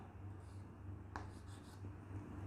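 Pen or marker writing out a trigonometry equation with tan theta, steady faint scratching over a low constant hum, with one brighter stroke midway.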